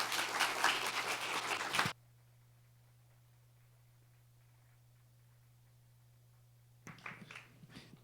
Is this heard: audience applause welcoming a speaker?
yes